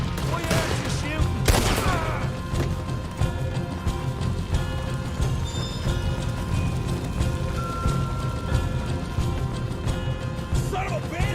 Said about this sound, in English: Why aren't you shooting?